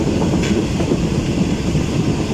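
A Pakistani coal goods train waits ready to depart at a station on the Karachi–Lahore line, giving a steady, close rail rumble with faint clatter and no voices.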